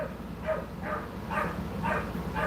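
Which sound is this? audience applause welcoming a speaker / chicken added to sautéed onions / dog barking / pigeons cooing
dog barking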